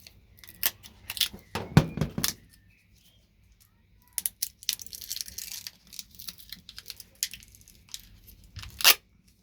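A thin circuit board is bent and snapped off a motherboard beside an LCD screen after chisel work, giving bursts of sharp close clicks, cracks and crinkly scraping separated by short quiet gaps.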